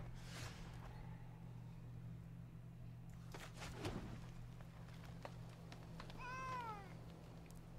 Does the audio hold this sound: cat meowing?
yes